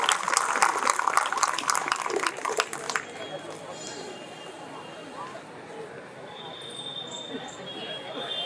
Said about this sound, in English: Please give a big round of applause for AKSHAT Goyal.